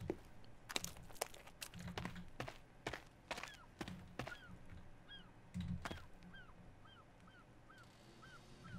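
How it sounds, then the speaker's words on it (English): Birds call in the survival horror video game The Forest: short, repeated chirps sound at a fairly steady pace over quiet forest ambience. Several soft thuds, like footsteps or items being handled, fall in between. "Birds, birds, birds"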